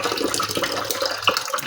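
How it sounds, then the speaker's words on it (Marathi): Water runs steadily from a tap at home, a broad continuous rush with small splashes and gurgles as a container fills nearby. "पाणी भरणं चालू आहे इकडं"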